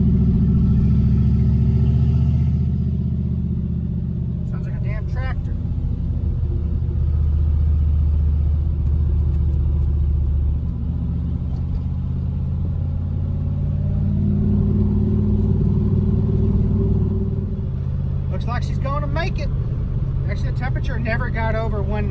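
A project car drives home with a low, steady engine rumble filling the cabin throughout, swelling slightly as it accelerates, while a voice talks intermittently over the drone.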